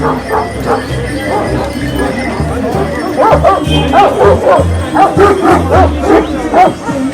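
Kangal shepherd dogs at a breed standard show bark, yip and whine in repeated close bursts, with someone talking over them.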